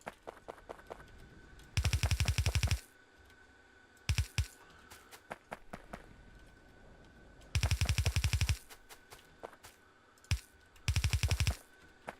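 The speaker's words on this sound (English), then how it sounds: "Oh, did I accidentally shoot my gun?" A player's gun fires in Factorio in short, rapid automatic bursts, four separate rattling volleys with quiet gaps between them, loud against a faint background hum and a few light clicks.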